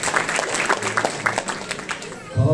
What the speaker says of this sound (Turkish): Kalabalık fazla ama alkış az mı sanki?